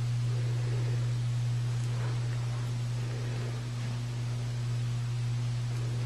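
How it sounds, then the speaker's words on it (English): A small budget laminator runs with a gentle, steady low hum, fairly quiet and constant, with faint background hiss and no talking. "You can hear a gentle hum. It's fairly quiet."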